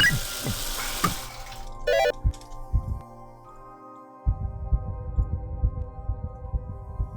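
Water running in Zork: Grand Inquisitor, a gushing faucet-like stream that stops abruptly, followed by tonal chimes and later a bubbling, gurgling flow with no talk.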